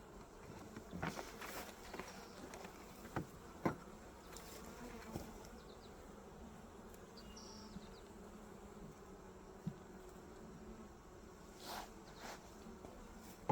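Honey bees buzz steadily around an open beehive during an inspection, with a soft continuous drone broken by occasional taps and handling clicks, and no voices.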